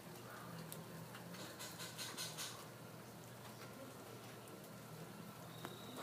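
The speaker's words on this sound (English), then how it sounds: "So right now it's rain" Rain falling during a thunderstorm, a faint continuous hiss with scattered louder patter and no talk.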